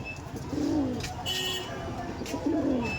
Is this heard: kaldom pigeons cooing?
yes